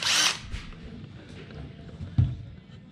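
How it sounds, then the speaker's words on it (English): A power drill starts a hole in an aluminum fishing boat, a brief, close, high-pitched whir at the start followed by faint handling noises and a dull knock. "Okay, so I'm gonna drill some holes just to get started with this jigsaw."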